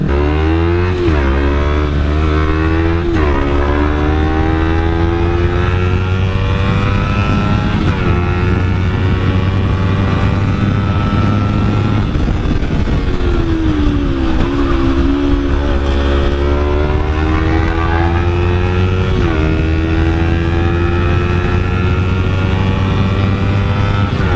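A 2011 Kawasaki Ninja 250 being ridden, its engine note loud and close, climbing and dropping steadily through the revs for the whole stretch with no talking.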